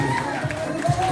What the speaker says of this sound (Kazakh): жастарға бір шапалақ ұрайық